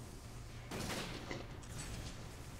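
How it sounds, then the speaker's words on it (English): Quiet gunfire from Resident Evil 5 rings out in a short volley of faint, distant-sounding shots over a low game hum. "I am shooting this guy."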